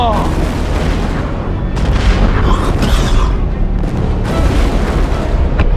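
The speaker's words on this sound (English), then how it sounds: "Load the cannons. Fire at will." Cannon fire booms from the battlements of Nizwa castle in Oman, heavy repeated blasts rolling into one another as a loud, dense rumble, with voices faintly under the noise.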